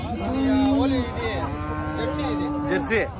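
Cows mooing at a cattle market in Punganur, with breeds such as Jersey and HF present: one loud, close, drawn-out low moo followed by a second long call, with faint voices in the background.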